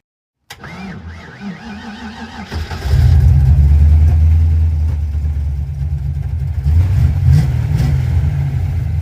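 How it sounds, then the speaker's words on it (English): A car engine fitted with an Edelbrock 1405 carburetor starts, then revs up into a loud, steady deep roar with some throttle variation, no voices. "Much happier revving now, the bigger pump shot."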